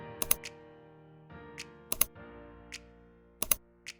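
Computer keyboard keys pressed for Windows shortcuts, three paired clicks spaced about 1.5 seconds apart with softer single taps after each, close and crisp against quiet background hum.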